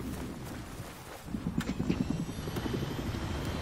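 A helicopter in the Battlefield 4 video game, its rotor thumping rapidly and steadily at moderate loudness after a quieter opening, with no talk.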